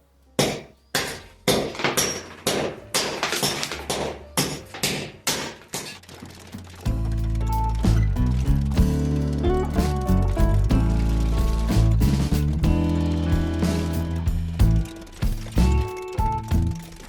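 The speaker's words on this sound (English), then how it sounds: "I'm going to see if just a brick hammer will do this, because these are hollow tijolo blocks and they do break quite easily." A brick hammer strikes hollow tijolo clay blocks in a series of sharp knocks, then heavier crumbling and rattling of broken pieces, all close and loud.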